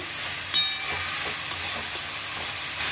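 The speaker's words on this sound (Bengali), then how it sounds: "এবারে এগুলো দিয়ে একটু ভালো করে কষিয়ে নেব চাল কুমড়োটাকে।" Ash gourd with salt and a green chili sautéing in a pan, a steady soft sizzle with a few light clicks of a spoon against the pan.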